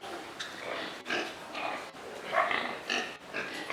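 Pigs kept on a modern pig farm grunt, oink and squeal nearly nonstop in a lively chorus at close range. A dog-like yelp mixes in, and there is no clear speech.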